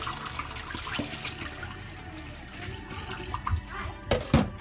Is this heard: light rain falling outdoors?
no